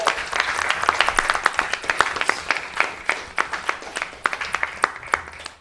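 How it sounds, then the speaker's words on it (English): Audience at a student council meeting applauding, a steady patter of many hands clapping at moderate volume for several seconds before tapering off. "Let's give a round of applause for the first councillor-driven agenda item of the year."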